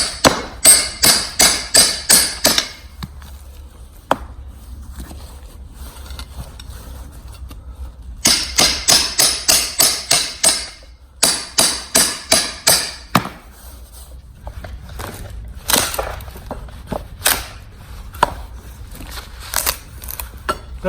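Crowbar prying and breaking out the root base of a field-grown bonsai tree, heard as bursts of sharp rhythmic knocks and cracking, loud and close, with pauses between runs of strikes.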